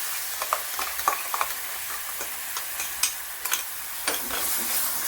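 Grated coconut and masala being stirred into a hot oil tempering for a val biradya curry, a steady low sizzle with irregular spoon scrapes and taps against the pan, close and without any talk.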